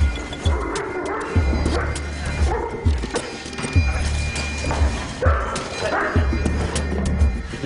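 Two muzzled police dogs of the RAID elite unit bark and snarl in repeated bursts while attacking, close and loud amid thuds, scuffling and strained human noises.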